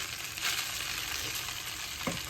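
Fried rice and a vegetable mix are stir-fried in a pan, with a steady, moderate sizzle and scattered scraping stir strokes, ending in a couple of sharper clinks.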